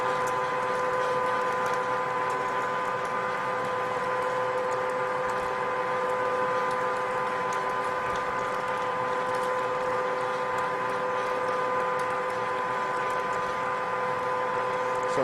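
Ridgid 1224 power threading machine cutting threads on a pipe, giving a steady, continuous motor hum with a faint mechanical whine throughout, close and even in level.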